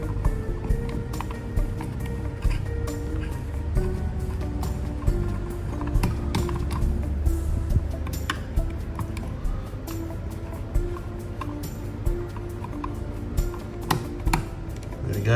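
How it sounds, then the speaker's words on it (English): A small screw in a digital clamp meter case gives repeated sharp ticking clicks as it is undone and its thread jumps over itself. The clicks are close and fairly quiet and come in an irregular run. "Once you hear that clicking sound, you know the thread's jumping over itself and the screw's undone."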